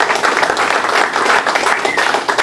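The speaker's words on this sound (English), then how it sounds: "So a round of applause for Bill," Lively applause from a crowd at a motorcycle brand relaunch night, close and loud, with many hands clapping in a busy, uneven patter and a few scattered cheers mixed in.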